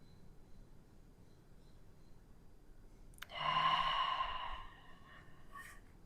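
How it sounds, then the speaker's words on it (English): A single deep, slow breath during a stretching exercise: a soft, close exhale rises out of near silence, lasts just over a second, then fades back into a quiet room. "Breathing through it."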